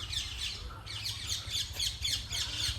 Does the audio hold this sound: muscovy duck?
yes